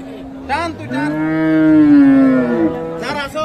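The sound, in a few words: cow and calf mooing at cattle market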